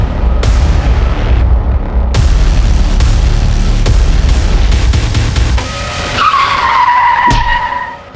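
A car skids loudly in an accident scene from a TV crime drama, a long rough screech of tyres under heavy roar, ending in sharp thuds and a ringing squeal.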